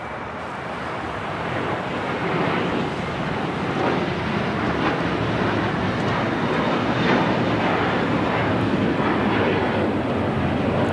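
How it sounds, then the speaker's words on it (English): A JetBlue Airbus A321 jet takes off from Los Angeles airport, a steady broad roaring rush that builds slightly and holds, heard from a distance with wind buffeting the microphone. "This is JetBlue 1388 taking off to Boston on the A321"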